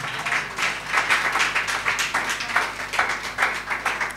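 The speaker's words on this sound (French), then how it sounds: "Acclame pour toi-même." A church seminar audience on marriage claps and cheers for themselves, a dense, steady burst of many hands clapping at close range with no one speaking over it.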